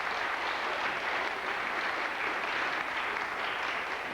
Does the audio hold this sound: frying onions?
no